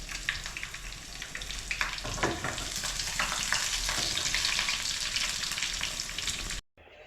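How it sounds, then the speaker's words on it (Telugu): Tempering spices sizzle hard in hot oil for mango dal, with sun-dried salted chillies going into the pan; a loud, steady, crackling frying hiss runs for about six seconds and then cuts off abruptly. "ఇటు తాలింపు వేసానమ్మా"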